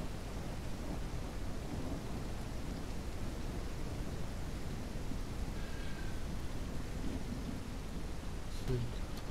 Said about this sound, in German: Schon wieder so lange gewartet, dass es wieder angefangen hat mit Regnen.